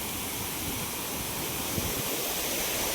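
Ranpat waterfall in Konkan pours steadily in a wide, unbroken roar of rushing water, a dense constant wash of noise close by with no voices.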